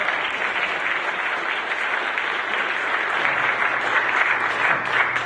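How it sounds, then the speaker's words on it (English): Sustained audience applause fills a hall during a medical college debate on Medicare defined contribution, a dense steady wash of many hands clapping at even loudness throughout with no voices over it. "Kim, did you lead that applause yourself and let everybody else join in?"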